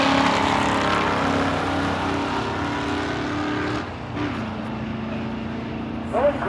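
Drag racing cars at an outdoor strip roar steadily from a distance, the engine note dropping sharply midway as a gear is grabbed, then rising again, with crowd noise faintly underneath.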